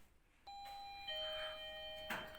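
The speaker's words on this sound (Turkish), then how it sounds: "zil çaldı arkadaşlar" A doorbell chimes with a couple of clear electronic tones, ringing out alone in an otherwise quiet room.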